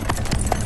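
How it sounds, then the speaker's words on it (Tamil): A horse's hooves clip-clop in a few quick, close, loud strikes as the horse sets off. "நீ குதிரையை கிளப்பு"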